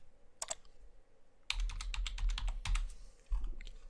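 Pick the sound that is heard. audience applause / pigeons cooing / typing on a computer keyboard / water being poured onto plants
typing on a computer keyboard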